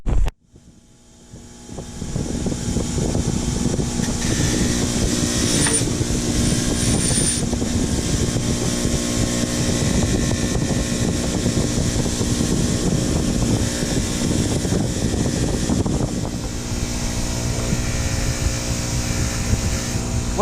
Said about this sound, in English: now watch what happens when I use the rotary wire wheel on it